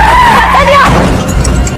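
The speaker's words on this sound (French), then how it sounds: "Avec un crissement de frein strident, la voiture s'arrête de justesse sur le bas-côté." A car's brakes screech as it stops sharply on a roadside: a loud, wavering high squeal lasting under a second over engine rumble and road noise, then fading into a low rumble.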